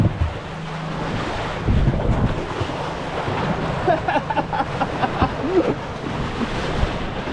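Big waves on a river surge and wash over the bank where gold panning was going on, a loud rushing churn of water under heavy wind buffeting, with brief vocal sounds.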